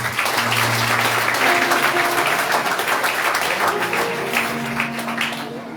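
Congregation at an evangelical church in Caradeux, Haiti, breaks into big sustained applause, a thick roar of clapping with voices and faint tones mingled beneath, fading slightly toward the end.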